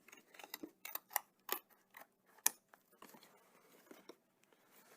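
Scissors cutting around a flap of a cardboard box, quiet close snips and crunches in an irregular run of short clicks and scrapes, faint overall with near silence between cuts.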